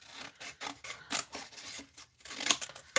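Scissors cut through craft material at close range in a few short snips and rasping drags, with quiet gaps between them and no voices.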